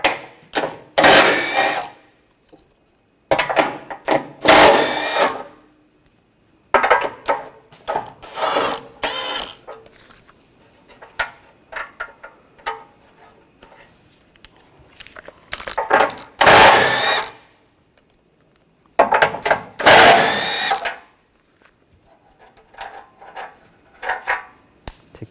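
Bumper nuts come off a 2014-2020 Nissan Rogue under a 16mm socket on a power tool, in several loud bursts of whirring and ratcheting separated by quiet pauses and softer clicks.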